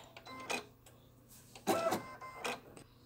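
An embroidery machine stitches slit holes for the clip on a snow princess ear set, giving a few quiet mechanical chattering bursts at a steady pace in a calm room.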